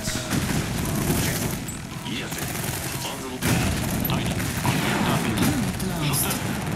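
Rockets exploding against a unit in the strategy game Tempest Rising, a dense continuous barrage of gunfire and blasts with a sharp surge midway, loud and close, while a voice talks over the battle.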